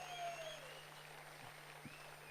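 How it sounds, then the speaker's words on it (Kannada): An audience claps at an event at Ambedkar Bhavan in Melbourne. The applause is a faint, steady patter of many hands with no voices over it. "ಈಗ ಹೊಡೀರಿ ಚಪ್ಪಾಳೆ."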